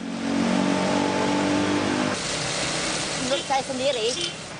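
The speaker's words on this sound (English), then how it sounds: "A water sprinkler truck is also on site to clear up the mud." A water sprinkler truck's engine runs at a flood mud-clearing site in Indonesia. A mid-pitched motor hums steadily, then gives way to rougher, wavering sound, and a voice may be faintly present.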